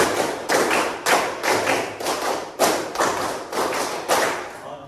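A classroom of students claps in unison, a sharp rhythmic pattern of bursts roughly every half second across five seconds, loud and close with no talking.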